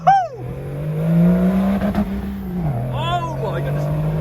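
BMW-engined Land Rover Defender pulling away from a standing start, engine note rising and holding as it accelerates, then easing off, with a voice heard over the end.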